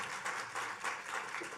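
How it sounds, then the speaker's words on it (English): Brief, faint audience applause at a gala, a short burst of scattered clapping heard from a distance. "she deserves applause."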